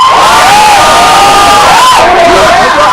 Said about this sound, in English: Please cheer if you are present.